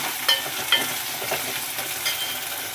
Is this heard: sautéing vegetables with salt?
yes